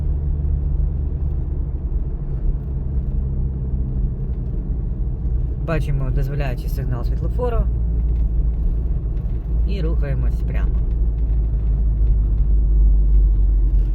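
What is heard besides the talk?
car driving on city road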